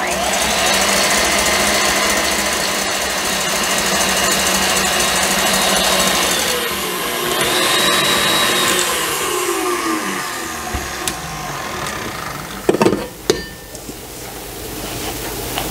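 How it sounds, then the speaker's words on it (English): Electric mixer whirring loudly and continuously while beating egg whites with a pinch of salt to stiff peaks, its pitch shifting as the whites thicken, then winding down with a few clanks at the end; no talking. "I'm going to finish beating my egg whites until they're stiff"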